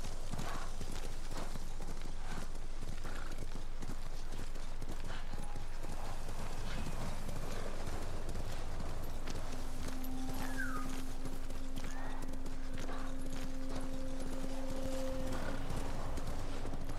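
Steady clip-clop of horse hooves in the Ghost of Tsushima video game, a continuous rhythmic trot running the whole way over ambient game sound, with a faint whinny and a sustained tonal hum in the second half.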